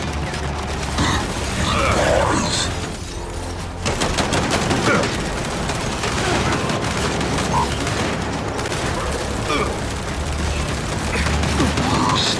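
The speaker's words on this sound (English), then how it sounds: "We're pinned down! We can't deal with those turrets!" Turret gunfire in the Gears 5 video game: dense, continuous rapid-fire shooting rattles on for the whole stretch, loud and busy with overlapping bursts and impacts.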